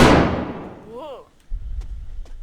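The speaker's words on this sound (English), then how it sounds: "Somebody's shooting at him, but he can't see who it is" Gunfire booms in Red Dead Redemption: a loud, decaying blast opens, a whistling sweep follows, and then a low rumble with faint sharp cracks rounds it out.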